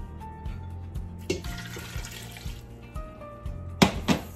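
Water poured into a pan holding pumpkin and sweetener for a low-carb pumpkin coconut sweet, with a soft splashing run that builds to a louder, close gush near the end over quiet kitchen hum.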